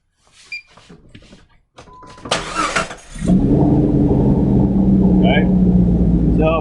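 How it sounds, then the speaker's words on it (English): A car engine cranks and catches at about three seconds, then settles into a steady, loud, close idle. Talk and handling noises come before it starts. "we are going to watch the scan tool while I start the vehicle up and let her idle here"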